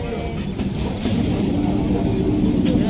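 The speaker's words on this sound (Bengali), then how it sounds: "হ্যাঁ ট্রেন ঢুকে গেছে হ্যাঁ ট্রেন দেখো পেছনে দেখা যাচ্ছে" A train pulls into a busy station with a low, rumbling roar that swells partway through and holds steady, with a faint hiss on top and crowd noise around it.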